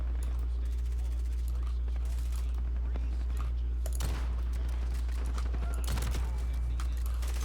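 Pistol gunfire in a video game: a few sharp shots and scattered fast pops that rise over a constant loud low hum and busy game noise.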